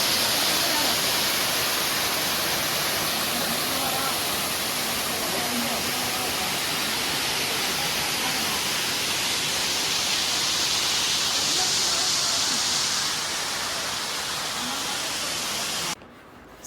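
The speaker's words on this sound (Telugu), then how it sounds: "సో ఇదే రాయకాల్ వాటర్ ఫాల్స్ అన్నమాట. ఎంత బాగుందో, ఎంత ఫ్లో ఉందో." Rayakal waterfalls roar in a dense, unbroken wash of falling water, loud and close for the whole stretch before cutting off sharply at the very end.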